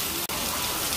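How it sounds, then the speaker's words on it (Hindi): Sudden heavy rain pours down in a dense, loud, continuous hiss of drops striking surfaces, with no talk. "ये आ गई बहुत तेज वाली बारिश"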